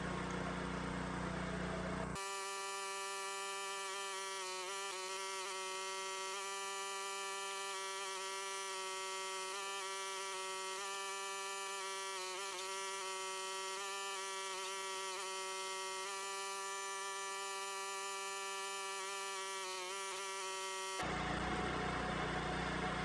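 A Champion 27-ton log splitter with a sharp splitting head forces its way through big, gnarly, knotty wood, giving a steady loud hydraulic engine drone with a dense harmonic whine that holds unbroken for about nineteen seconds before cutting off.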